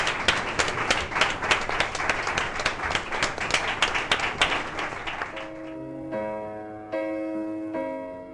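Strong applause from a television studio audience, dense rhythmic clapping for about five seconds that fades out as a musical tune takes over.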